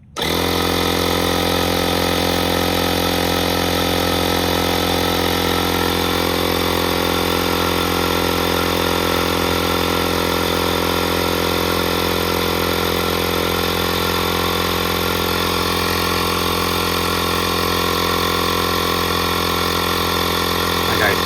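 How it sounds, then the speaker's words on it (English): A small electric tyre inflator from a roadside jack kit plugged into a car's cigarette lighter, giving a loud, steady, unbroken motorised drone that runs the whole time without letup. "So we'll put some air in it."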